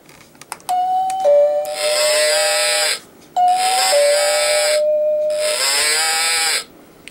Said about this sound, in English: So there it is, that's the Cowbell doorbell.